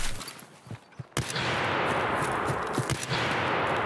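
In the video game Escape From Tarkov, a few sharp gunshots crack close by in quick succession, followed by a loud, sustained burst of noise that fills the rest of the moment.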